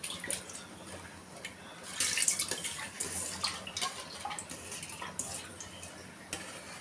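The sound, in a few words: water poured over rice while washing it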